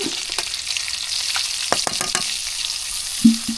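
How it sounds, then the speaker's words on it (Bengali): Spices being stirred into hot oil with onions for a Bengali village iftar dish, a steady bright sizzle with scattered scraping stirs and a short clunk near the end, no voices. "তো এখানে একটু তেল এবং পেঁয়াজের মধ্যে সব কিছু নাড়াচাড়া করে নেই"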